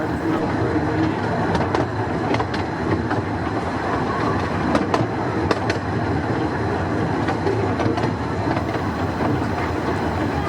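La'al Ratty heritage narrow-gauge railway train running along the line, wheels clicking and rattling rhythmically with occasional sharp clacks and squeals, a continuous close ride-along rumble.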